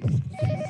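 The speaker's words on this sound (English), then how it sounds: "Ignore that phone. Gotta go to voicemail." A telephone rings in the horror game Yomawari: Midnight Shadows, two short buzzy ring bursts in quick succession, fairly loud and close.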